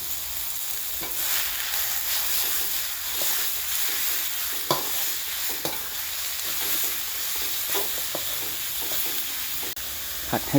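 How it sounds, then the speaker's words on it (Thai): Marinated pork with dried chili is stir-fried in a pan on lowered heat, a continuous even sizzle with frequent scraping and tapping of the spatula throughout, no talking. "จะผัดให้แห้งครับ เสร็จแล้วก็ใส่เครื่องครับผัดให้ส"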